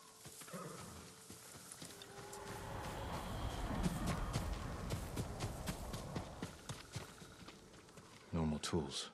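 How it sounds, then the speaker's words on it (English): A farm horse walks near the stables in the samurai video game Ghost of Tsushima, its hooves clopping steadily and close over a dense ambient game soundscape, with a louder burst near the end. "I want to look at his horse."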